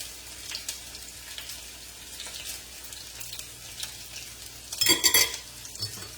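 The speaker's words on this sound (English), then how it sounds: "I'm just giving this a stir and I'm taking it to the table." Breakfast food is stirred in a pan, with faint quiet scraping and a soft background sizzle, then a brief louder clatter of a utensil against the pan near the end; no one speaks.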